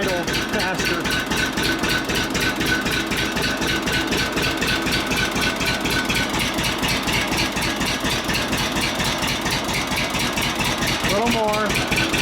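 An engine idling steadily with a fast, even pulsing beat after its idle speed screw is turned in, loud and close with a person talking over it.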